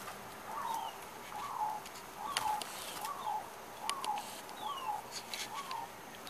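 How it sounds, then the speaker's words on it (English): Soft, rhythmic cooing of Hawaiian zebra doves feeding on a porch repeats about once a second, with faint flutters and scattered small noises in the background. "this is probably about half of the doves I feed"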